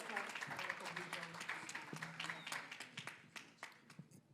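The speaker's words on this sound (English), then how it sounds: "give a round of applause to AGA for that" A round of applause from an audience at a youth forum session on democracy, governance and human rights, a steady patter of many clapping hands, quiet and somewhat distant, thinning out toward the end.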